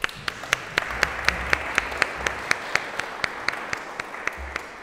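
A lecture audience claps for the visiting speakers, a steady, evenly paced round of applause with individual sharp claps standing out clearly, fairly close and continuing throughout.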